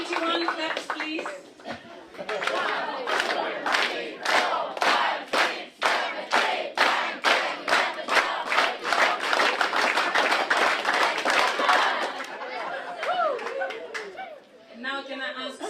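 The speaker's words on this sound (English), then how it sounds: "21 claps, please." Family group at a birthday gathering clapping in unison, a long run of sharp, evenly spaced claps that grows slightly faster, with voices chattering and calling out around it.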